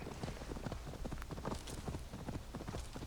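Rapid hoofbeats of two horses clip-clop steadily over a dense, noisy backdrop in Assassin's Creed Valhalla, with no talking.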